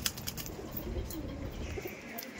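Madrasi pigeons coo softly in a loft or cage. The low, murmuring calls sit under a steady ambient hiss, with faint flutters and scuffles and no speech.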